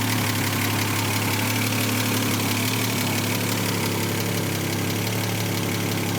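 A Volvo 164 car engine runs at a steady idle, a dense, even rumble with a slight rhythmic knock, close by and unbroken for several seconds with no one speaking.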